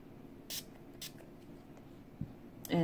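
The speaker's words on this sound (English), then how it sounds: "we're going to use the 10 Years Younger finishing spray." A finishing spray is misted onto a face in a quiet room, with two or three short, soft hissing spritzes and small handling noises between them.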